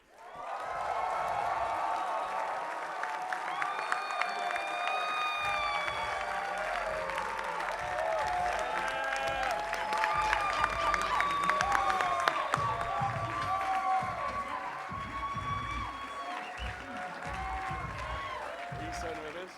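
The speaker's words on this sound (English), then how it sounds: "would you please give an insane round of applause for my son, Sean Whalen Jr." Live audience at a motivational speaking event applauding and cheering as Sean Whalen Jr. is brought on stage, dense clapping mixed with whoops and shouts, a voice calling out over the crowd throughout.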